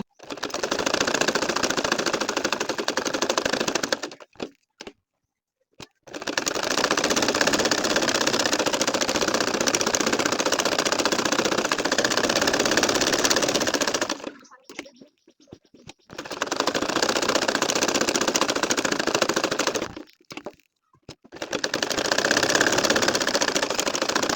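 A domestic sewing machine stitching a nakshi kantha quilt runs in three long, steady bursts of rapid mechanical chatter, separated by brief pauses, close and loud.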